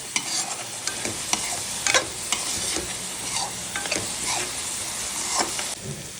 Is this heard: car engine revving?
no